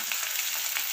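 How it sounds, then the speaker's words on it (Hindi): Garlic fries in hot oil as the base for a mixed pickle of garlic, carrot and green chilli, giving a steady, close sizzle with faint bubbling pops throughout. "लहसुन दे रहे हैं तेल में अचार बनाने के लिए।"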